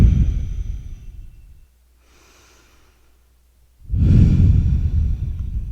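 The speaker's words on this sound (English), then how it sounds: "just focus on breathing in to your diaphragm and just exhaling out" Deep diaphragm breathing during a chair yoga session: a strong, close breath rushes out, then a quiet pause with faint air, then another loud, forceful exhale that carries on to the end.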